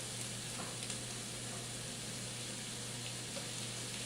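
Onions sizzling in browning butter in a frying pan, a steady, close hiss with faint crackle running evenly throughout, no voices.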